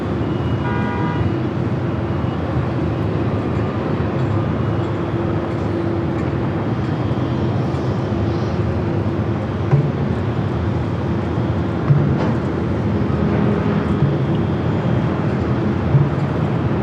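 An Airbus A380 at LAX, heard as a continuous broad roar of jet engines, loud and sustained, with faint horn-like tones briefly at the start and a few light knocks later.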